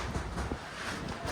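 Strong gusting wind buffets the microphone on the Chandrashila mountain trek in Uttarakhand, a continuous low roar and rumble throughout with no voices.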